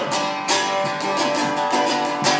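A homemade instrument built from a 32-ounce beer can, played acoustically without amplification: a few sharp twangy attacks with buzzing, ringing tones between them, close and fairly loud, with no talking.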